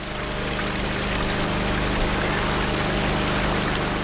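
Groundwater pumped out of a flooded cellar gushes from hoses onto the street, a loud dense continuous rush of water with a steady low pump hum underneath.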